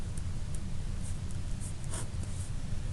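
A pen or marker scratches out a math solution in short strokes and taps across a writing surface, soft and close over a low steady background hum, with no talking.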